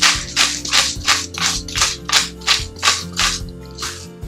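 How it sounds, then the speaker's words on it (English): A hand pepper mill cracks fresh black pepper onto a bowl of cowboy caviar, giving about ten rhythmic, crunchy grinding bursts close by, with soft music underneath. "Fresh cracked black pepper."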